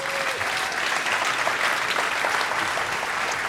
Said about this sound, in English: give them an amazing round of applause for their time today